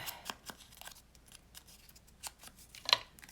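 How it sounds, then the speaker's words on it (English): Scissors snip paper for a handmade journal insert, a string of quiet, sharp cutting clicks close by, with no talking. "I'm just going to cut that"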